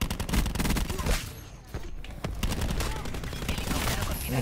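Rapid bursts of video game gunfire in Call of Duty: Black Ops 4 crackle continuously, with dense repeated shots from automatic weapons close up and loud throughout.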